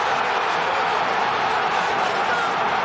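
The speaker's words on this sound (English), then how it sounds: "And just listen to this crowd." A football stadium crowd roars in a dense, steady wall of cheering after a goal in a Champions League match between Eintracht Frankfurt and Paphos, loud and sustained throughout with no breaks.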